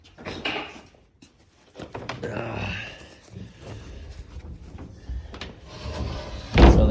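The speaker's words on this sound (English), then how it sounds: "Coming out, I'm gonna close the door." A door on a 12 by 25 foot home workshop building swings shut with a loud, close thud at the end, after shuffling, footsteps and a person's voice in the background.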